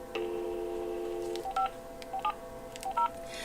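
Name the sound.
telephone number being dialed, touch-tone beeps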